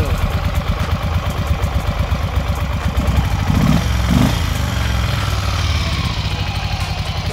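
A Ducati Monster 400 motorcycle engine runs steadily with one cylinder not firing for lack of spark, giving a loud, uneven, lumpy idle with a pulsing beat throughout, heard close up with no talk.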